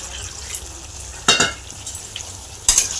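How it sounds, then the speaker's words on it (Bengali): Lightly pre-fried potatoes go into a hot pan, bringing steady frying hiss and two sharp scraping stirs of a spatula against the pan, close and alone. "আলুগুলো আমি হালকা করে ভেজে রেখেছিলাম। আমি আলুগুলো দিয়ে দিলাম।"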